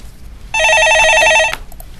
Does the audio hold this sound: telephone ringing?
yes